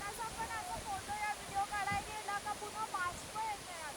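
Sawatkada waterfall in the Konkan, a steady rushing roar of falling water with wind buffeting the microphone and voices talking over it.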